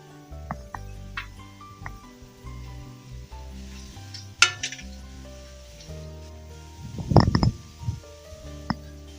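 Chili powder and salt stirred into a bitter gourd tamarind curry in a pan, with scattered spoon scrapes, clinks and soft sizzling, and a short burst of bubbling and stirring near the end.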